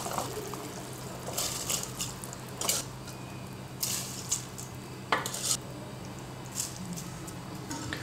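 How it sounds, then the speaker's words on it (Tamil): Soaked basmati rice being stirred into boiling water in a pressure cooker for Ambur chicken biryani, with a few scraping and clinking stirs over a steady low bubbling, close and fairly quiet. "அரிசி போட்டு கொஞ்சம் லைட்டாக மிக்ஸ் பண்ணி விட்டுட்டு ஒரு 2 நிமிஷம் நம்ம நல்லா கொதிக்க விட்டுக்கலாம்."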